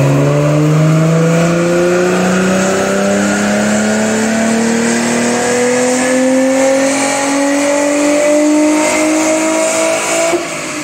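A Mercedes SLK350 with the M272 V6 engine, 138,000 miles on it, runs a full dyno pull. The loud, steady engine note climbs smoothly in pitch across the whole run with no pause.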